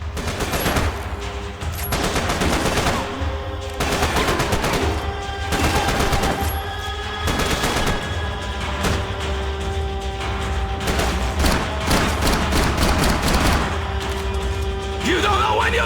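Rapid, loud gunfire from the video game Max Payne 3 rattles in repeated bursts of shots and automatic fire, with thuds and mechanical clatter between them and a game soundtrack running underneath.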